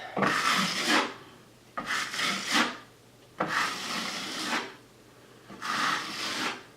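Wet drywall mud smoothed across a wall with a trowel, four long rasping scrapes in a slow back-and-forth rhythm, close and clear with no talking.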